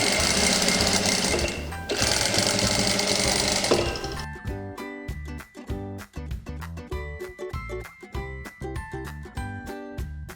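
A sewing machine stitching fabric piping along a U-shaped neckline, starting with a dense continuous whir, then breaking into rapid rhythmic needle clatter with short pauses, close and clear.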